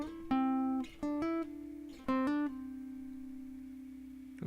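Guitar playing the final phrase of the solo from a song: a few clean plucked notes with slides between them, ending on one long note that rings out and slowly fades.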